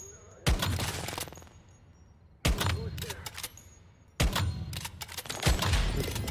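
Gunfire in the survival shooter Once Human comes in three sharp, loud volleys of rapid shots, each ringing out and decaying into quieter gaps, with faint talk underneath.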